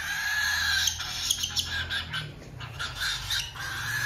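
Cockatiel squawks and chirps come through as a few harsh calls over a steady background, fairly close, with no speech.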